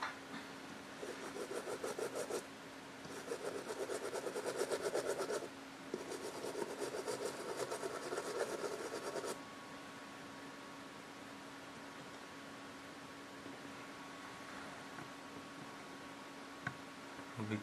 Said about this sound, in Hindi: ब्रश से हम साफ करेंगे।